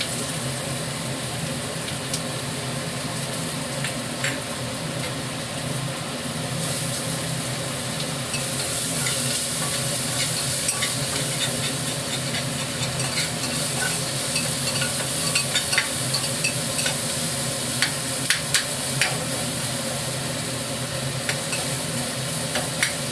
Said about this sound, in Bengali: পেঁয়াজগুলো দিয়ে দিয়ে একটু নাড়াতে হবে হালকা, যাতে একটু গোল্ডেন ব্রাউন কালার আসে ততক্ষণ